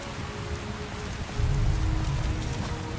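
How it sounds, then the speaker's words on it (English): Steady rain or sleet hisses over a snowy Skyrim landscape, a dense, even wash of droplets that swells slightly louder partway through, with no voices. "How is it raining when it's snowy?"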